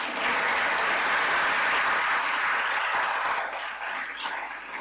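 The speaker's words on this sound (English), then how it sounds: "You can clap now." An audience claps warmly for scholarship recipients at an award ceremony, a dense burst of applause that holds steady and then thins out toward the end.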